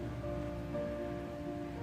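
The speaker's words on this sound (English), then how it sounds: "It's only fine rain now" Fine light rain falling in the woods, a soft continuous patter and hiss, faint and even throughout with a low steady hum beneath and no voices.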